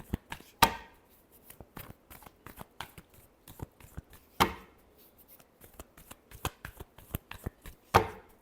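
Tarot cards being shuffled by hand, soft riffling and tapping clicks in quick irregular bursts with a few sharper snaps, close and quiet, no voices.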